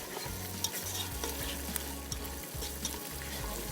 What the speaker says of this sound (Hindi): अच्छे तरीके से इसको भूनेंगे ताकि लहसुन अदरक की जो एक खमक होती है वो इसमें ख़त्म हो जाए और प्याज के साथ अच्छा सा मसाला भुन जाए